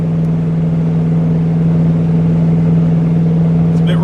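Pickup truck engine running steadily in fourth gear at nearly 60 miles an hour on a winter ice road while hauling a heavy load, a loud constant low drone with road rumble and a few faint rattles.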